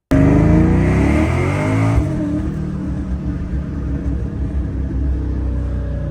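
A ProCharger-supercharged Ford Mustang Cobra engine on winter gas revs hard and accelerates, its loud rising roar climbing in pitch for about two seconds. A deep, steady rumble follows close up, with no talking.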